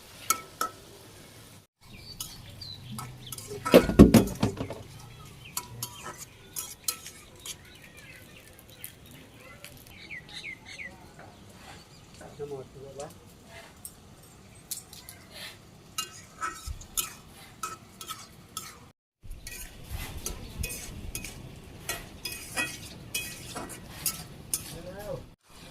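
Mixed vegetables with a little sugar are stirred and sautéed in a pan in a village kitchen, with repeated scraping and tapping strokes of the spoon over a soft background sizzle and brief quiet gaps.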